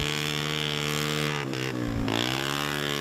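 Snowmobiles racing at a Hartford snocross round, a loud continuous high-revving engine whine that rises and dips as sleds pass close by, with no talk over it.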